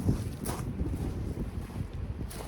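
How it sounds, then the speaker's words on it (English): Strong wind buffets the microphone with a steady low roar and gusty rumble throughout, with no voices. "It's like 30 something degrees, super windy with the wind chill."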